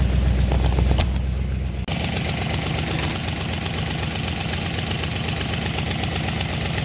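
A Buick 350 engine, just fitted with new push rods, idles with a loud, close, steady mechanical chatter and rapid ticking rhythm, briefly dipping near the start and then running evenly throughout.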